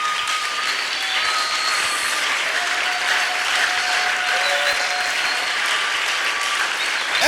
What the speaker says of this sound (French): Est-ce que nous pouvons nous lever et acclamer très fort pour le Seigneur?